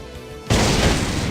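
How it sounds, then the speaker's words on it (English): An abrupt, loud explosion of ground caving in, a sound effect from the visual novel game Dies irae ~Amantes amentes~. A quiet low hum breaks into a sudden blast, followed by a sustained, roaring rumble. "The ground caved in with an abrupt explosion, dust dancing in its wake."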